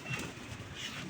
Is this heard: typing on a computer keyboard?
no